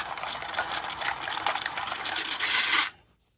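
Card shuffler riffling a deck of cards dealt face up, a rapid, close, dense fluttering clatter that builds for about three seconds and then stops sharply.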